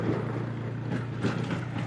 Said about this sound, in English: it's just a quad. It's the farmer.